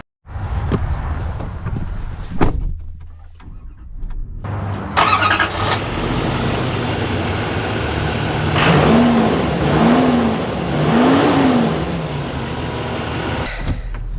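A 2025 Chevy Silverado 3500 LTZ pickup truck starts off and drives, its engine rising and revving steadily in the cabin, with a few chime tones and road noise underneath.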